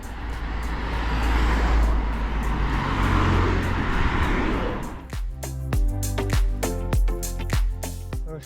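A car passes cyclists climbing a mountain road in the Picos de Europa, a loud broad roar that swells and fades over several seconds, followed by sharp ticking and clunking sounds close by.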